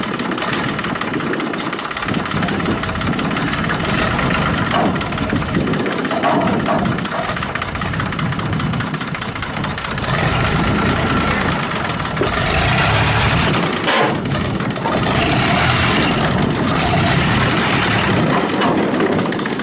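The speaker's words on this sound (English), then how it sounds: "So, I'm going to fire this tractor up" A 1982 International 284 compact tractor engine runs steadily at idle outdoors, a continuous broadband rumble with slight fluctuations throughout, close by and alone without talk.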